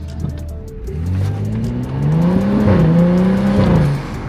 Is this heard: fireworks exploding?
no